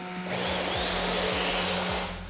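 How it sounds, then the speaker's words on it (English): A belt sander stripping dark stain from an old timber deck gives a loud, steady abrasive roar with a low motor hum and a repeated rhythmic thump as it passes over the boards. "So to get rid of that easily, I'm using a belt sander"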